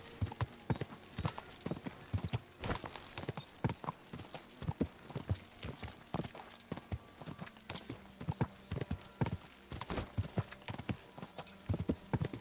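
Horse hooves clip-clopping in the medieval game Kingdom Come: Deliverance II, a steady, fairly quiet rhythm of hoof strikes on hard ground continuing throughout.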